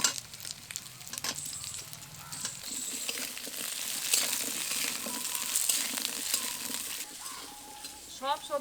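Potatoes, carrots and papaya sizzle in a pan for a Bengali vegetarian curry while being stirred, a steady close frying hiss broken by scraping and clinking strokes.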